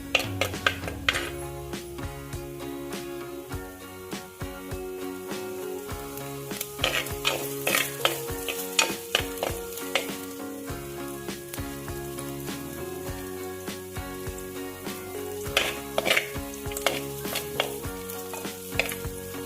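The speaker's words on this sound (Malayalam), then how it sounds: "ഇതെല്ലാം നന്നായിട്ടൊന്ന് വഴറ്റിയെടുക്കണം കേട്ടോ. നന്നായിട്ട് മൂക്കുന്നവരെ ഒന്ന് വഴറ്റണം." Masala sizzling loudly as it sautés in a pan for Kerala-style fish curry, a dense continuous fry broken by frequent sharp scrapes and clinks of a stirring spoon.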